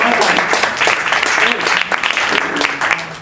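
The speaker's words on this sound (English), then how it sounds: "give her another round of applause" Audience applause at a charity party event, dense close clapping filling the whole stretch with some crowd murmur and cheering mixed in.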